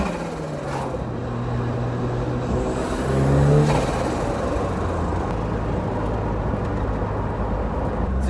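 A classic car pulls away on a sunny dry road, its engine note climbing steadily in pitch under acceleration, a continuous, fairly close drone with a brief louder surge midway.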